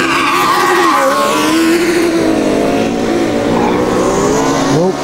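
A Formula Student race car roars past close by on an endurance track with loud engine revving and tires squealing as it understeers through a turn.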